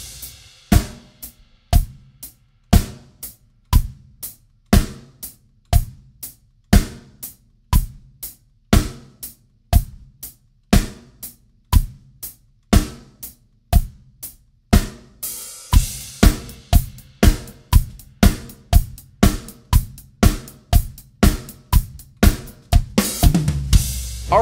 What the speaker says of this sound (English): we have a classic four on the floor beat that sounds like this